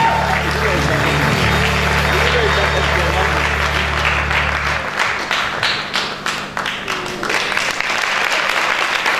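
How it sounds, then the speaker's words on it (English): Concert audience applause fills the space with continuous crowd clapping, at first under a steady low hum that cuts out midway, after which individual claps become more distinct as the applause carries on. "Keep clapping, please. It's worth it."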